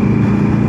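Motorcycle exhaust drones from inside a helmet at expressway speed, a steady, loud, muffled low rumble mixed with wind roar and no break for the whole short stretch.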